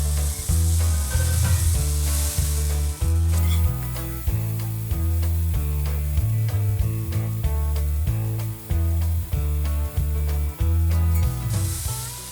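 Sourdough blueberry pancake frying in a pan, a steady soft sizzle running throughout beneath prominent rhythmic background music.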